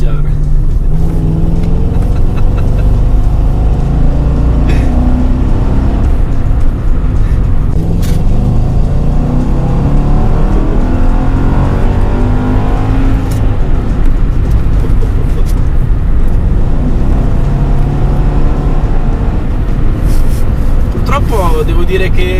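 A supercharged 475 hp Mercedes AMG accelerates hard, its loud engine note rising and pulling continuously while a person talks over it throughout.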